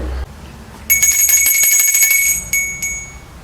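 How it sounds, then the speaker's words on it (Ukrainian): A small bell rings bright and high, a quick run of tinkling strokes followed by a couple of separate rings that fade away. "Давай на дзвіночку гучніше дзвени."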